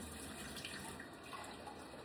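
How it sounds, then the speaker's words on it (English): Tap water from a well supply running into a container while being measured for sourdough, a quiet, steady hiss of flowing water with no talking. "We're gonna first measure out 600 grams of water because a regular batch is 300."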